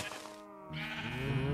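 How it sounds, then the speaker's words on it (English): A Minecraft sheep gives a single drawn-out, wavering bleat, close and clear against a quiet game background. "Look, there's a purple sheep on the loose."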